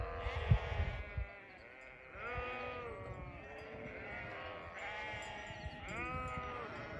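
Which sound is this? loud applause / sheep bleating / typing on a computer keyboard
sheep bleating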